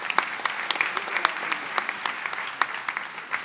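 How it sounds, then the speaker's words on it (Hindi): Audience applause greeting a student at a felicitation ceremony for JEE and NEET selections, made of sparse, distinct hand claps at an uneven rhythm, moderately close, with no talk over them. "इसलिए एक बार जोरदार ताली से इनका स्वागत।"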